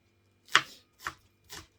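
Three distinct knife chops on a cutting board, spaced about half a second apart, crisp and close while ingredients are cut for a stir-fry and curry puffs.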